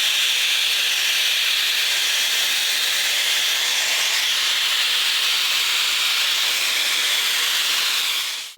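Shark FlexFusion hair dryer on a high setting blow-drying a section of curly hair, a loud steady airy roar held for several seconds before cutting off, close and with no talking.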